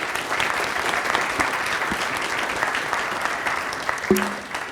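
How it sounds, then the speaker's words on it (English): Conference attendees give the presenters a sustained round of clapping, dense and even with a few sharper individual claps and a brief whistle-like tone near the end. "let's give a round of applause to the presenters"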